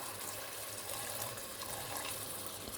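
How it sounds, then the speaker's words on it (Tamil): Mutton stock pours into a pot of seeraga samba mutton biryani, a continuous splashing wash of liquid at close range, with no speech. "இப்போ மட்டன் மிக்ஸ் பண்ண பிறகு நம்ம மட்டன் வேக வச்ச தண்ணியை இதோட சேர்த்துக்கலாம்."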